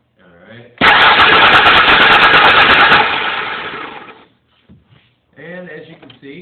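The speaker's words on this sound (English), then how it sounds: "And as you can see, it cranks really fast." A 1994 Ford Ranger with a 3.0 engine cranks rapidly without firing, a loud, steady whirring burst lasting about three seconds before trailing off, with a person talking briefly before and after.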